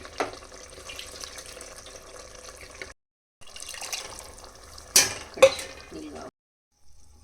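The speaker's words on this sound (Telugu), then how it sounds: "కొన్ని వాటర్ యాడ్ చేసుకుందాం." Water is poured into a simmering Nellore-style fish curry in a pan, giving short splashy bursts with soft sizzling and stirring between brief silent gaps.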